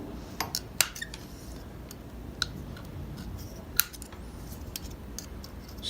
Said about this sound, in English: And then I just cut it off,